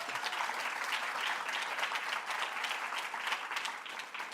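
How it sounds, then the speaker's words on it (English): Applause from the audience at a 2025 school-district sports awards event honoring athletes and their coaches, a steady, even wash of many hands clapping that continues at moderate volume without a break. "Let's give them a round of applause."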